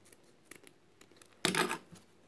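Scissors snip through satin ribbon while a bow is being made, a faint tick or two followed by one loud, close crunching cut lasting under half a second.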